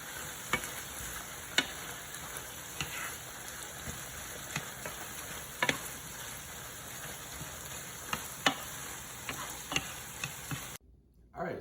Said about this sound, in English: And now we're gonna give this just a good stir, make sure everything gets mixed in together.